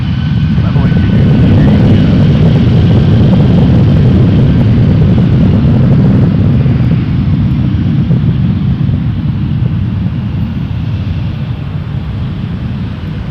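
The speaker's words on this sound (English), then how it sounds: "we got Air Canada 787 to Los Angeles" Air Canada 787 at Toronto Pearson Airport, a steady broad jet roar holding loud and close for several seconds before easing slightly, with no talk over it.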